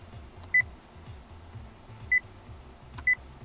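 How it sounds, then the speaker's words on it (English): Three short electronic touchscreen beeps from a 2014 Kia cee'd 1.6 GDI sound evenly spaced inside the cabin, clear but soft against a quiet low hum. "you can turn off the beep from the touchscreen"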